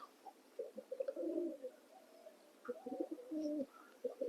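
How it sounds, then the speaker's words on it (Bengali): Soft pigeon coos come in short bursts, with a few faint chirps between them. The birds sound moderately close and there is no talking. "এই যে পায়রাগুলো, এদেরকে আস্তে আস্তে লবটা চিনুক"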